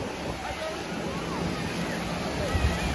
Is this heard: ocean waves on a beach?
yes